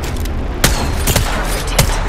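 Gunfire in Apex Legends: several sharp, close shots crack out at uneven intervals over a dense wash of game noise.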